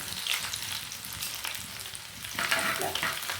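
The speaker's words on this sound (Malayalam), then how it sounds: "ഇനി നമുക്കതിലേക്ക് വെളുത്തുള്ളി വെളുത്തുള്ളി ഇടാം കേട്ടോ എണ്ണ നല്ല ചൂടായിട്ടിരിക്കുക" Crackling, spattering sizzle of garlic frying in hot oil, steady with a louder burst of popping near the end.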